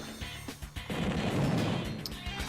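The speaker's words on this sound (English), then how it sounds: "Attack with this rocket unit here." Rocket artillery attack in the Nintendo DS strategy game Advance Wars Dual Strike: a loud rumbling barrage of booming impacts that swells after a short lead-in of smaller hits and sustains near and heavy to the end.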